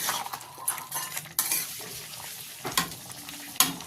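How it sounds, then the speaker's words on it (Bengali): Pea ghugni being stirred in a pan after garam masala is sprinkled on top, with scraping spoon strokes and soft clinks against the metal over a faint sizzle, a few sharper scrapes standing out near the end. "আবারও নাড়াচাড়া করে নিলাম"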